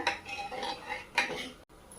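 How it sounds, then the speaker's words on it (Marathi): A metal spoon stirs urad dal in a pot at close range, giving several scraping, clinking strokes against the metal sides, with a brief pause near the end. "उडदाच्या डाळीचं व्यवस्थित असं हलवून देऊया"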